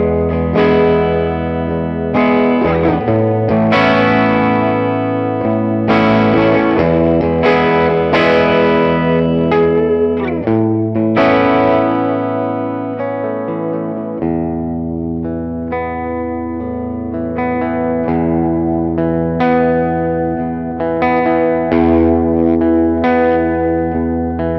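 Electric guitar played through a Catalinbread Softfocus reverb pedal, with sustained, shimmering chords and melodic phrases washing into a thick ambient tail, loud and continuous without any talking.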